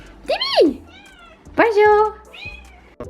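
A pet cat meows twice near the door, wanting to be let back inside, with a short final meow at the end; a person calls out a greeting in between.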